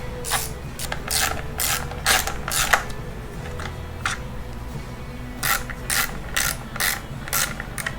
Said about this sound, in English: I'm actually going to pull this flywheel off